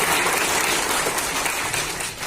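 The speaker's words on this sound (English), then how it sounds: "Clap your hands." Participants at a sales training session in Imphal clap together in a brief, dense burst of applause, loud and close, lasting a couple of seconds.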